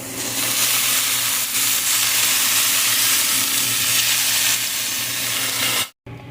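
Pork sausages sizzling hard in a hot pan, a loud steady frying hiss filling the whole stretch, close up, with a brief break near the end as they are flipped.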